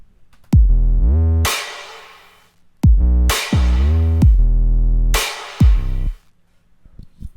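A Cymatics 808 bass in a trap remix, sidechained to the kick, booms in three long gliding notes with punchy drum hits, loud and close, the bass ducking sharply at each kick.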